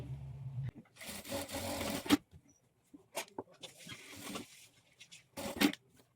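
A sewing machine stitches dots onto the back of a blouse in short, separate bursts of whirring motor noise, with pauses of near silence between runs.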